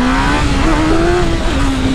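Honda CB1000 motorcycle accelerating hard in User mode, a loud steady engine roar with a rising whine held throughout, close and continuous with no talk over it.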